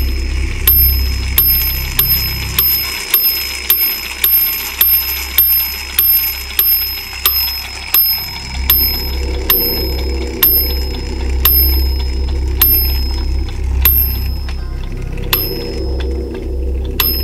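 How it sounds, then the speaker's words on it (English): A bell inside a mystery box dings repeatedly in a steady fast rhythm, bright and close, over a low background rumble; the strikes thin out and become irregular in the later part. "how did it make the ding noise when I didn't even press it down?"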